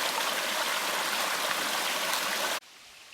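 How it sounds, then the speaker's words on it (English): Brook water running over a hiking trail along Mine Brook in Massachusetts, a loud, steady rushing and burbling flow close by that cuts off abruptly near the end. "the water's running down and around it also"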